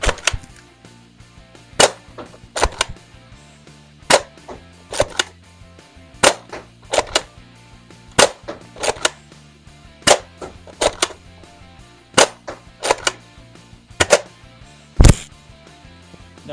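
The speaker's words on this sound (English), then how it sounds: "Now let's show you this thing firing. Starting off with the included Elite darts." A Nerf Elite 2.0 Shadow blaster shooting Elite darts gives sharp, snappy pops in a steady series of roughly a dozen shots, each close and distinct, with short gaps between them.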